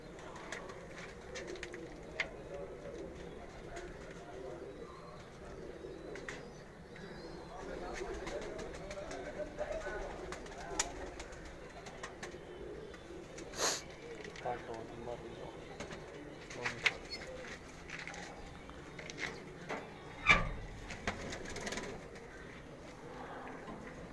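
Kamgar breed pigeons coo softly inside a loft, low murmuring calls recurring through a quiet scene with scattered sharp clicks and small rustles nearby.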